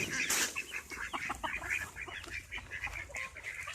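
Ducks quack and honk in a busy, irregular flurry of short calls, fairly faint and outdoors, with several birds calling over one another and no talking.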